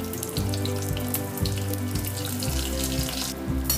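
Brinjals dropped one by one into hot oil with mustard seeds and curry leaves, giving a steady, close frying hiss and crackle with a few soft thuds as pieces go in; no voices.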